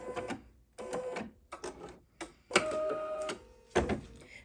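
An embroidery machine stitching appliqué runs in short bursts of buzzing, whirring motor activity separated by brief pauses, close and moderately loud, with clicks and shifting tones between runs.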